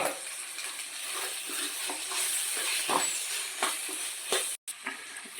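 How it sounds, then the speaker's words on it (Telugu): Masala sizzles and hisses steadily in a hot pan for a Telugu mutton curry, with occasional stirring scrapes and a brief drop-out near the end. "ఇప్పుడు మసాలా వేగిందండి."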